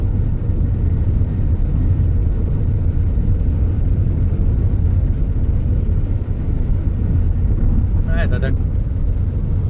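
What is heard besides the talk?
car driving on a highway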